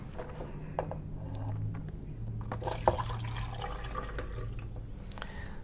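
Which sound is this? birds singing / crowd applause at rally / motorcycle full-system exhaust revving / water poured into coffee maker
water poured into coffee maker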